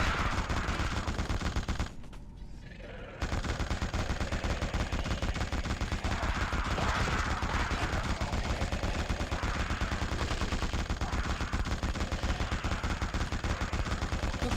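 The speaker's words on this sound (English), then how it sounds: "This is like a machine gun emplacement to help make this stuff easier." Machine gun emplacement firing in the video game The Suffering: a dense, unbroken stream of rapid, loud shots running almost throughout, with one short gap near the start.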